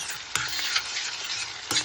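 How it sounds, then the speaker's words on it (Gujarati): Onions sautéing in a pan for chhole gravy, a steady close sizzle with a few sharp stirring scrapes and knocks of the spoon. "તો ઓનિયન સાતળવા મૂકી દીધા છે."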